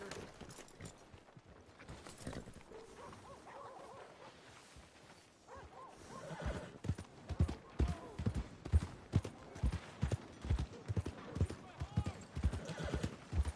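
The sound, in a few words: horse hooves clip-clopping, Red Dead Redemption 2 video game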